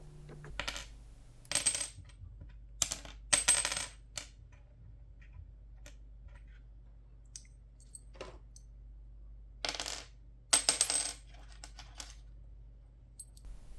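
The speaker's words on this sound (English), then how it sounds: "now you will hear the difference between Graphtech Tusk and Bone in the" Graphtech Tusk and bone guitar nuts dropped one at a time onto a hard surface in a drop test, giving sharp, bright clicks and rattles in two separated clusters of several impacts each, close and clear against a quiet background.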